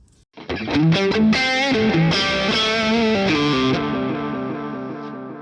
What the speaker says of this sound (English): the delays are going into the amplifier and then the delays are getting distorted